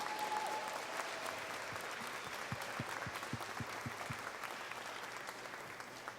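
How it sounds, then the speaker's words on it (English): An audience at a state house rally for a providers council breaks into sustained applause, a dense steady wash of many hands clapping with a few sharper claps standing out, moderately loud and continuous throughout. "Give yourselves a huge round of applause."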